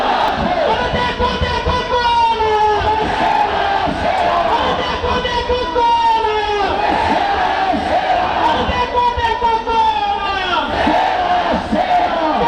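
A protest crowd at Jantar Mantar in Delhi cheers and shouts continuously, loud and dense, with rising collective yells and whoops repeating in waves across the whole stretch.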